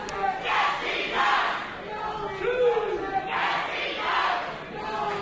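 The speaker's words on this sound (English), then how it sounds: "I cannot believe this crowd." A wrestling event crowd roars and chants in waves, loud and sustained with rhythmic swells, shouting voices blending into the din throughout.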